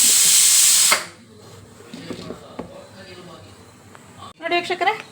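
Mixer grinder blending a spice masala with poppy seeds: a loud, close whirring grind for about a second that cuts off abruptly, followed by quiet kitchen clatter and a person speaking.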